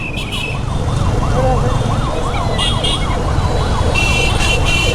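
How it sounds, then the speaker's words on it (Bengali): A wailing ambulance siren rises and falls continuously as it moves through busy Rangpur street traffic with auto-rickshaws, over steady road rumble and engine noise; a voice may be faintly present. "সামনে একটা হচ্ছে অ্যাম্বুলেন্স যাচ্ছে অ্যাম্বুলেন্সটাকে ক্লিয়ার করে দিচ্ছে"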